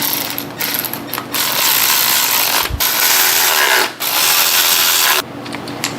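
Rapid ratchet clicking while bolts are tightened on a 327 engine assembly, close and loud in repeated bursts separated by brief pauses.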